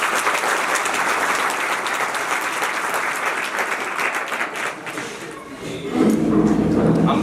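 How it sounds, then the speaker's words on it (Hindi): Loud applause from a school gathering welcoming guests at a teacher's retirement function, dense sustained clapping from many people that thins briefly before swelling again near the end. "जोरदार तालियों के साथ अभिनंदन।"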